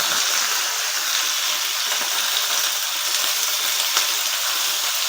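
Pumpkin sautéing in hot oil with fennel seeds in a home kitchen, a steady close sizzle and crackle running continuously with no talk.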